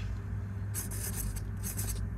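A pen or marker scratches in short strokes while writing out a math equation, a soft steady scribbling with quiet pauses between bursts and no voices.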